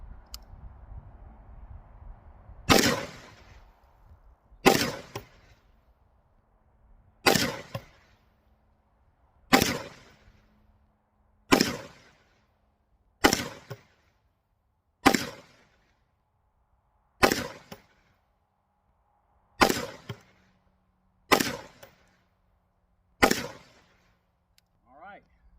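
A Palmetto State Armory Jakl 5.56 rifle with a 10.5-inch barrel fires about eleven single shots, each a sharp loud crack, spaced roughly two seconds apart and clear of any talk.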